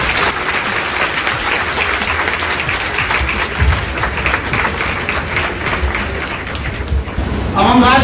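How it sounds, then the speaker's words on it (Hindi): Loud, sustained applause from a large crowd at a UPSC coaching batch launch event fills the space continuously, with a voice starting to speak over it at the end. "जोरदार तालियों के साथ"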